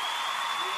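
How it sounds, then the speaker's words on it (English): Applause from a crowd, a steady wash of clapping that fills the brief moment without any break. "Round of applause for you."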